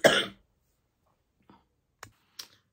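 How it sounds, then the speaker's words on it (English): One harsh cough or throat clear, loud and close, opens the clip, followed by quiet stillness broken only by a few faint clicks and small throat sounds. "I decided to have a coughing fit"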